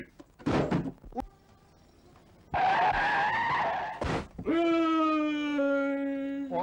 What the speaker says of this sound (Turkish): Ayı uçarak geliyor. Gene arabaya tosladı yine.